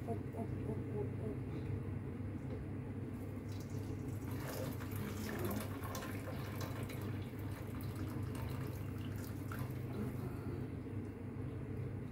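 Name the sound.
draining hot water into a sink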